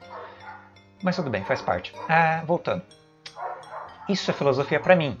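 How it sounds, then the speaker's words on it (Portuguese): Neighbours' dogs barking in the background, a scattered run of yips and barks under a man's close, steady talking. "Desculpa pelos cachorros dos vizinhos estarem bem afoitos hoje."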